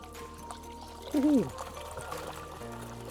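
Water gushes steadily from an Aerator LP60 into a lava-rock cliff pond, a constant close rushing wash with a brief spoken word over it.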